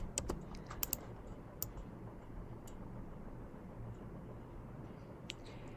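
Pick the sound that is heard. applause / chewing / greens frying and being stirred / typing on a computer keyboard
typing on a computer keyboard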